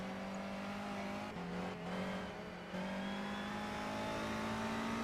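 A touring car engine drones steadily on the Silverstone circuit in a racing game, holding a loud, continuous pitch that dips briefly mid-corner before climbing again through the gears.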